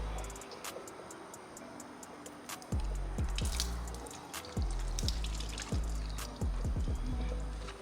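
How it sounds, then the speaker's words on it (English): Water runs and drips off a coated carbon fiber car hood, a soft trickle with a scattering of quick drips and splats, faint and close, with no talking. "the water just slides faster down on this side"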